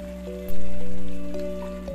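Food fries in a covered pan on a gas stove turned to full flame, a dense rain-like crackle and sizzle that swells suddenly, then slowly eases over a steady low hum.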